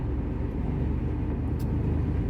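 A steady low engine rumble from a truck driving game, close and constant with no change in level as a tractor passes, no talking.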